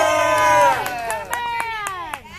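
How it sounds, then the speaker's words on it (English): A children's soccer team cheers and yells together in a loud, close burst of high voices, the shouting settling into scattered calls and whoops. "Everyone, give Connor a yell."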